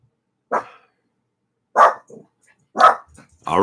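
A pet dog barks sharply three times, with a short yip between, each bark separated by about a second of silence.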